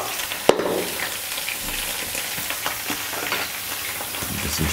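Spinach cooks in a hot pan with a steady, close sizzle and frying crackle, with a sharp clatter near the start and faint stirring.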